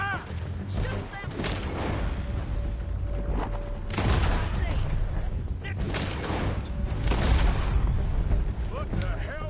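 Gunfire in a PS4 video game, rapid bursts of loud shots and booming blasts in dense clusters, with shouting voices over the chaos.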